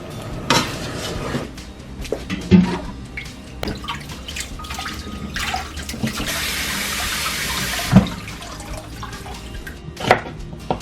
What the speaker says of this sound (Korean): 이제 한번 깨끗이 씻어 볼게요.